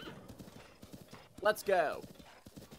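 In the video game Breath of the Wild, rhythmic hoofbeats clop along as a horse moves in reverse under a short spoken phrase, then the horse lets out a loud, wavering neigh midway through.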